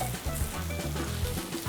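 Beetroot chop mixture sizzles and fries in a hot pan, a steady crackling hiss with stirring scrapes over it, close and fairly loud.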